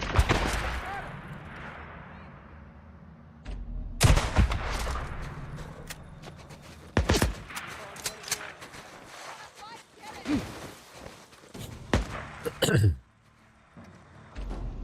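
Video-game gunfire from Days Gone: loud, sharp shots and short bursts spread over the stretch, mixed with combat noise and someone talking now and then.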